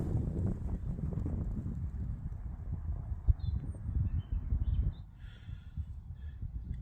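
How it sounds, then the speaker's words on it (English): Wind gusting around a bivvy bag at night during wild camping, a steady low rumbling buffet on the microphone that eases slightly toward the end. "The wind's picking up a little bit."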